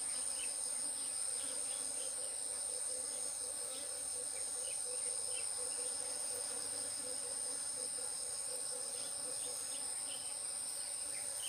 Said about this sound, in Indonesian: banyak banget tawon itu. Ini tawon madu ini kayaknya